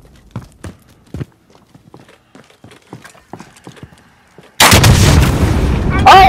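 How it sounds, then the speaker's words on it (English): Hostile gunfire in the shooter game Call of Duty: Modern Warfare: sparse faint taps and thuds give way to a sudden loud, sustained burst of shots that runs to the end. "Receiving hostile fire."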